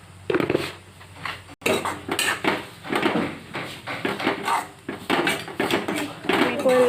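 A spoon stirs spices, chilli powder and salt around a metal pan for chilli pickle, clinking and scraping in short repeated strokes while someone talks over it.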